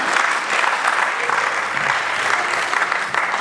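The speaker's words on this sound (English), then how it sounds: "Can we give her a round of applause," A crowd claps steadily for a few seconds, a dense, continuous wash of applause at even loudness with no voices standing out.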